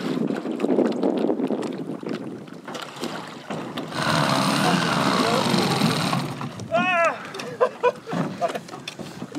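An old Soviet Vichr 30 outboard motor running on a boat, a steady engine drone that swells in the middle amid wind buffeting, with people talking over it.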